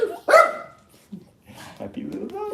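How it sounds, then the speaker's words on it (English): A dog gives one loud, close bark at the start, then fainter yips and whimpers follow while a person talks in the background. "Happy little doggy."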